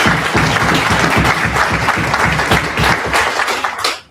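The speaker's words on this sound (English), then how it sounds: "So I'm expecting a big applause because they are here." Loud, full applause from an audience at a football association ordinary congress, many hands clapping in a dense, continuous burst that stays strong for about four seconds before tapering off.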